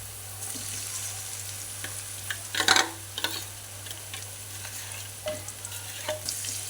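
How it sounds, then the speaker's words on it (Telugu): Fish shana with fried onions stirred in a pan, a steady sizzle of frying under repeated scraping and clattering stirring strokes, close and alone without talk. "ఇప్పుడు దీన్ని మంచిగా ఈ విధంగా ఫ్రై చేసుకొని ఇవ్వాలి"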